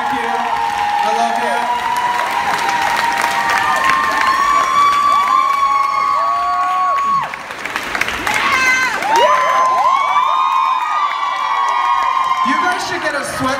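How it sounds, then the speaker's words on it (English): A concert crowd at a pop show in Munich cheers loudly, with shrill whoops and high screams layered over steady clapping. The noise stays dense and near throughout, dipping once briefly before surging back. "please give a round of applause for everybody else that made this tour possible"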